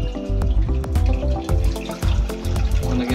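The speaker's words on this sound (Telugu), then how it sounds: "ఇప్పుడు పిసికి ఇప్పుడు నీళ్లు ఇందుట్లో పోస్తున్నా దాక." Water is poured into soaked tamarind in a cooking pot, making a close, splashing trickle broken by repeated short drips and plops in an uneven rhythm, with no voices.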